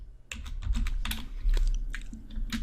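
Rapid, close keystrokes on a computer keyboard enter an SQL query in PostgreSQL, a dense run of crisp clicks with uneven rhythm throughout.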